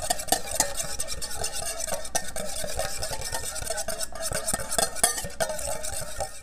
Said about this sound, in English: I'm going to whisk.